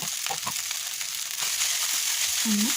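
Leftover idli frying with spices in a pan, giving a steady, fairly quiet sizzle with a few soft stirring scrapes, alone and without talk.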